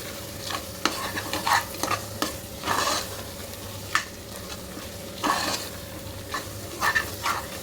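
Ground masala frying in a pan for plain kushka while being stirred, repeated scraping and clanking strokes of a ladle over a constant soft sizzle, close and moderately loud, with no speech.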